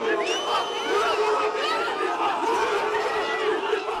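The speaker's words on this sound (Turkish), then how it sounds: "Yuhaladılar, ıslıkladılar, istifaya çağırdılar." Protest crowd at a Hatay earthquake anniversary memorial booing, whistling and chanting for a resignation, a dense continuous roar of shouts and whistles with no pauses.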